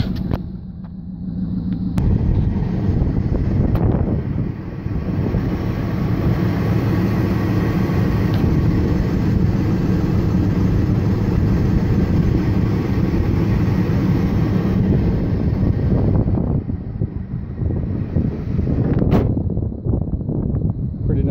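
A truck engine with a head gasket leak runs steadily, giving a loud, continuous low rumble close to the microphone, with wind buffeting the mic and a few brief changes near the start and end.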